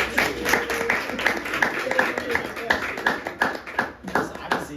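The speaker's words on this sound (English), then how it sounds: "Round of applause, please." A group claps steadily in brief applause, hands striking rapidly, close by, with talking mixed in.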